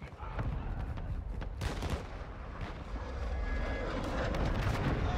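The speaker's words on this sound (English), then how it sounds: "precision airstrike. Find cover." In Call of Duty MW2, a precision airstrike brings a dense roar of aircraft engines, with gunfire and explosions mixed in, continuous and loud throughout a chaotic battle.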